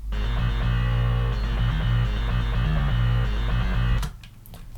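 A programmed metal bass plays a heavy, distorted low riff in chugging repeated notes, then cuts off abruptly near the end, leaving faint noise.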